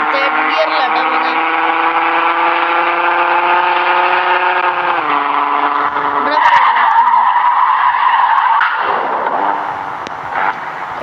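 A BMW car's engine pulling in third gear, a loud, steady droning tone that climbs slightly in pitch, dips as the revs change, then settles, with road and tyre noise underneath.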